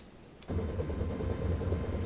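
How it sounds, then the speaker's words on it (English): Submarine electric engines running at full speed in Silent Hunter 3, heard as a steady low mechanical hum that starts abruptly and holds loud and constant, with no talk over it. "Now the electric engines are running at full speed."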